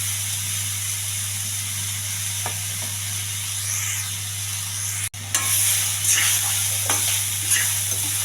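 Millet upma with salt and onion stirred in a pan: a continuous hissing sizzle under a steady hum, with scraping spoon strokes becoming louder and more frequent in the second half.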